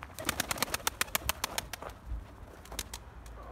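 Pigeons coo softly nearby, with quick fluttering, clicking pulses at the start and low murmuring calls continuing.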